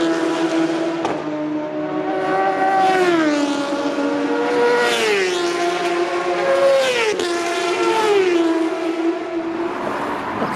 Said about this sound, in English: This is the super bikes, the real fast ones.